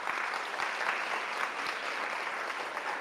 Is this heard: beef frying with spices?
no